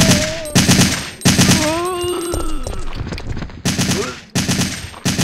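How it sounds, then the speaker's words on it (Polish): Loud, close gunfire in Resident Evil 3 comes as heavy bursts of automatic shots that cut in and out, with game voices and tonal effects sounding in the gaps. "Strzelaj, Jill, strzelaj."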